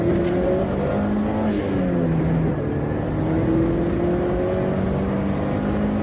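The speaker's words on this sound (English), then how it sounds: "I'll quickly show you what it goes like." Vauxhall Nova GTE with a 2.0 turbo engine accelerating hard in second gear, loud and close, the engine note climbing steadily through the revs with turbo whoosh over the drone.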